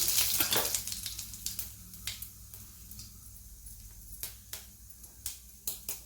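Mustard seeds crackling and popping in hot oil alongside cumin while cooking a ridge gourd vegetable dish, with irregular sharp snaps over a soft steady sizzle, fairly close and without talk.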